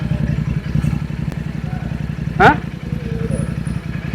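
A motorcycle fitted with a modified double silencer exhaust idles with a steady, loud, low throb. The rumble runs through the whole stretch, broken once by a brief clattering chirp partway through.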